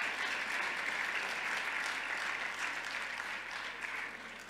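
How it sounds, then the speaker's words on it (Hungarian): A church congregation claps steadily in welcome for newcomers during a sermon, a soft, even patter of many hands heard from some distance and fading slightly at the end. "Isten hozott egy nagy tapsal."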